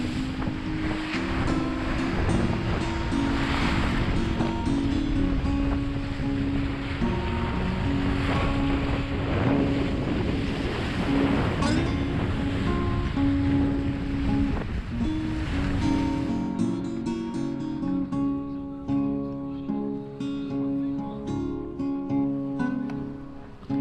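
Ocean waves and heavy swell wash steadily around a sailboat crossing the Atlantic from Cape Verde to Barbados, a loud continuous rushing with wind buffeting the microphone and a tonal hum running underneath.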